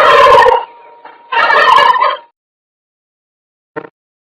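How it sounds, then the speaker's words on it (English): A turkey gobbles nearby in two loud rattling bursts with a short gap between them, ending with one brief faint note a moment later. "turkey"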